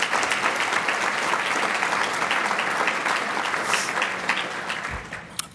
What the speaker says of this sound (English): Let's give Al another round of applause.